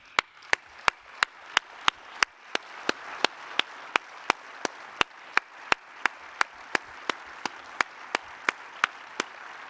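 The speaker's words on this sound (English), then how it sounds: "So I would like to ask the three of them, Pauline, Wenki, and Nicolas, to stand and receive a clap from the audience." A single pair of hands claps at a slow, steady pace, about two sharp claps a second, close and distinct, for award winners at a welcome ceremony, with a faint room murmur beneath.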